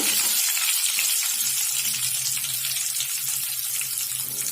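Mustard seeds and dal sizzle in hot oil as they are stirred for drumstick sambar, a loud, continuous, hissing crackle close by with no pause.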